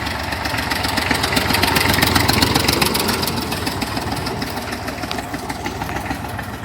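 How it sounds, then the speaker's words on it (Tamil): A tractor engine idles steadily in a village setting during summer, a loud continuous mid-pitched chugging rumble with no voices over it. "டிராக்டர் வந்துருச்சு"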